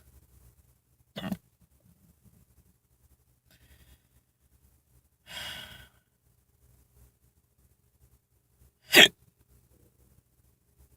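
Three short, isolated throat bursts spaced a few seconds apart inside a quiet car, consistent with hiccups, with silence between them and no talking.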